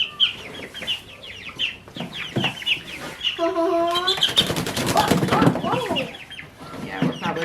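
Young chickens cluck and squawk nearby as they are moved, with overlapping calls, wing flapping and a rapid rattling burst, while people talk at times.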